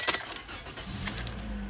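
A used car's engine cranks and starts, low steady rumble building after a few brief clicks and rattles near the start, heard close from inside the car.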